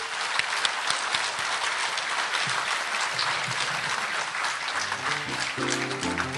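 Closing a commemorative ceremony for the 10.4 inter-Korean summit declaration anniversary, a hall audience claps in a dense, continuous burst, with a few sustained musical tones creeping in near the end.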